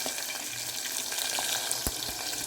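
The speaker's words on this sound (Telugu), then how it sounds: "కరివేపాకు బెండకాయ ముక్కలలో అల్లం వెల్లుల్లిపాయ పేస్ట్ వేసిన పసుపు వేసిన కొంచెం ఫ్రై అవుతూ ఉంటాయి నూనెలో" Okra pieces fry in oil with curry leaves, ginger-garlic paste and turmeric, giving a loud, steady, close sizzle with small crackles and one sharp stir-like knock.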